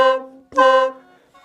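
A Lao khaen mouth organ plays reedy, buzzing notes in two short, close bursts separated by a brief gap, with a faint third note starting at the end and no voices.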